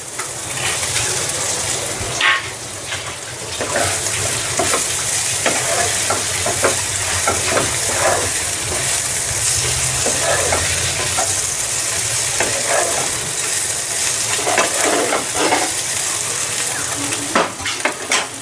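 Puti fish hits a pan of frying onions with a loud, dense sizzle that crackles steadily for the whole stretch. Occasional scrapes and clicks of stirring come through, close by, with no talking.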